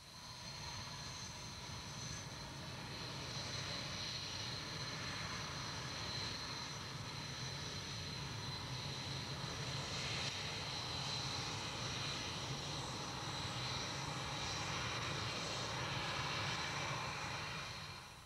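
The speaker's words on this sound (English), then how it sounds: "the Jaguars in the company of F-16s taxi out for the first of many sorties" SEPECAT Jaguar and F-16 jets taxiing out at an airfield, a continuous jet engine whine and roar heard at a moderate distance, steady and uninterrupted throughout.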